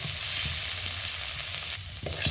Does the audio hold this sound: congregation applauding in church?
no